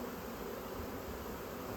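A honeybee swarm hums around a hive with drawn comb, a continuous soft buzzing drone of many bees, faint and steady with no talking.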